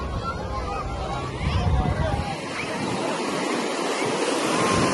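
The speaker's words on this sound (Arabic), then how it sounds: "الموج عالي قوي" Strong, high ocean surf pounding Alexandria beach in a steady broadband roar, with wind buffeting the microphone and a heavier surge partway through.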